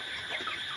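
A brief burst of broiler chickens clucking and chattering together in a crowded shed, with a steady fan-like hiss behind.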